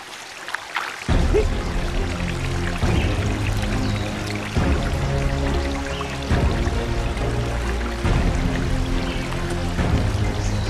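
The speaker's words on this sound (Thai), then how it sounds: "นี่คือแหล่งน้ำตกที่ดีที่สุด" Water from a small waterfall pours and splashes steadily, a continuous close-up rush of flowing water with gentle surges and no pauses.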